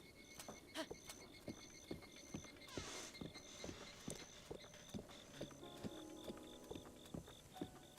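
Horse hooves clip-clop at a steady galloping rhythm while riding in the video game The Legend of Zelda: Breath of the Wild, the repeated footfalls close and fairly quiet with no talking.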